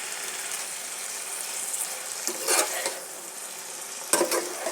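A bean and onion-stalk stir-fry sizzles in a pan while a spatula stirs it, with several louder scrapes and clinks against the metal rising over a steady frying hiss.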